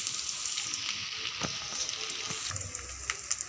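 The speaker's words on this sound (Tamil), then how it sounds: "இந்த வெங்காயம் கொஞ்ச நேரம் ஸ்லோ குக் ஆகட்டும்." Onion slow-cooking in a pan for a blood stir-fry, giving a soft continuous sizzle with light crackles and an occasional faint scrape, steady and fairly quiet, with no voices.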